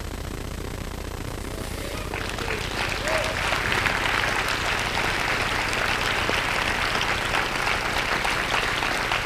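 A church congregation gives a standing ovation, dense sustained clapping that swells after a couple of seconds and holds steady, filling the room at close range with no voices on top.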